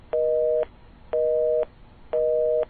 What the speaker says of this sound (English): Well, I think we just hung up on Ron